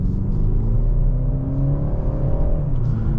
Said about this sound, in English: We'll do a soft acceleration here.